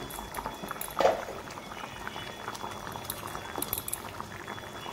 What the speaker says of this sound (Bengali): তো এখানে ঝোলটা ফুটে গেছে